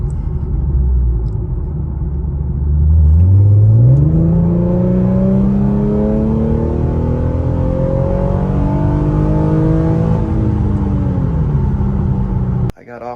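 An Infiniti Q50 accelerates hard in a loud, close pull, its engine note climbing steadily through the revs with a deep rumble. A shift comes partway through before it keeps pulling, with no talk over it.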